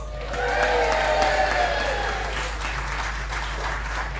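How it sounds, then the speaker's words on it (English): An outdoor crowd at a 1940s wartime weekend in Lytham applauds steadily for several seconds, with some voices and cheers mixed in and a low constant hum underneath. "Let's give them a big round of applause."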